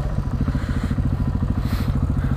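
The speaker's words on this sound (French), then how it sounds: "En face une moto aussi." A motorcycle, oncoming on the road, is heard from another rider's bike, its engine throbbing in a steady low pulse with rushing wind noise that swells briefly; no speech.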